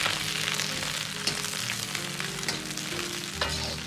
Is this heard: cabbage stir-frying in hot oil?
yes